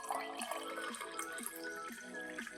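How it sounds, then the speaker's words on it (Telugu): Water splashes and glugs into a glass as herbal drops are mixed in, a close, soft trickle with a regular bubbling pulse, heard alone. "ఇక్కడ చూడండి, వాటర్ మిక్స్ చేసుకొని"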